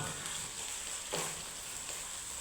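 Beef pieces frying a second time in hot oil, a steady, even sizzle and hiss throughout with a brief louder crackle partway through, close and alone without talk.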